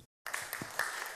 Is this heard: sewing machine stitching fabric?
no